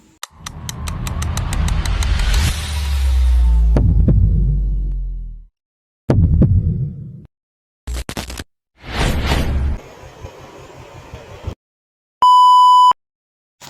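A two-way car alarm goes off in loud, choppy bursts: pulsing siren-like sweeps and throbbing tones broken by sudden silences, ending with a clean high electronic beep.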